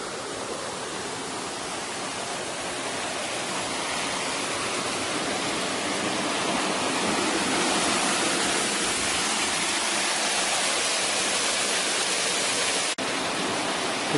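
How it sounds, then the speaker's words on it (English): Falling water at a mill in Galicia, a steady dense roaring rush that holds at one level throughout, close and loud with no voices. "This is falling water doing work"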